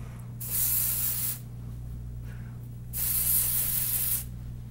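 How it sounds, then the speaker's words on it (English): Two bursts of colored hair spray hiss from an aerosol can onto hair in a salon, each about a second long, close and bright over a steady low electrical hum, with no talking. "there's like lots of colored sprays"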